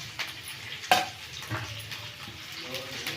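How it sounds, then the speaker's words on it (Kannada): Okra sizzles in a hot pan for a gravy dish, with scraping stirs and a sharp clink of a utensil against the pan over a steady frying hiss. "ಈಗ ಇದಕ್ಕೆ ಬೆಂಡೆಕಾಯಿ ಹಾಕ್ಕೊಂಡು ಹುರ್ಕೊಳ್ತೀನಿ"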